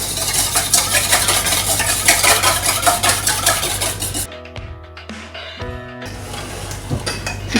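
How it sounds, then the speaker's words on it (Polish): Wet ingredients and egg whisked by hand in a bowl for jam doughnut-style muffins, a dense scraping, rattling rasp of the whisk against the bowl that runs steadily, then turns sparser and choppier with clinks before resuming. "mokre składniki razem z jajkiem. I rózgą wymieszajmy dobrze."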